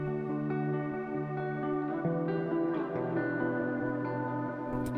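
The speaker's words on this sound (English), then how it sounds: "For the main kind of rhythmic guitar," Rhythmic guitar part from an anthemic pop song mix, treated with shimmer, EQ and opto compression, strummed steadily and sustained across the whole stretch with ringing harmonics, playing alone without voices.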